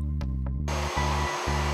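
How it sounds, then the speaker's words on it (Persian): An Arshia brand vacuum cleaner runs with a steady, loud motor drone and a strong low hum, switching to a fuller airflow roar partway through, with brief dips in the motor sound. "جارو برقی ارشیا بسیار پرقدرت، کم مصرف، با دوام، با دسته تلسکوپی قابل گردش در همه جهات"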